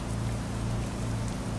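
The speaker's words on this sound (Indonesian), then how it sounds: "Wow, hujan deras ini bikin drop FPS guys." Heavy rain in the Euro Truck Simulator driving game pours as a dense, constant hiss over a low engine drone, loud and unbroken.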